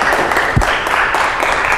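Dense, steady clapping from a group of people fills a lab setting, an even wash of hand claps held at a constant level throughout.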